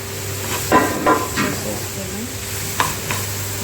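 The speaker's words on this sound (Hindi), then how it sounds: "देखिए कैसे मैं भून कर ले रही हूँ। हमारा स्टोव फास्ट है एकदम, गैस को फास्ट ही रखा है मैंने।" Whole green moong dal is stirred and roasted dry in a pan over a high gas flame, with a low sizzle under several distinct scraping clanks of a spoon against the pan.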